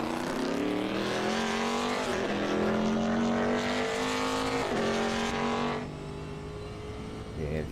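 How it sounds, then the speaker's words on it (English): Racing car engines in the video game Automobilista 2 drone steadily, with the pitch shifting as gears change, then fade to a lower level near the end. "I can hear all the other cars more than mine."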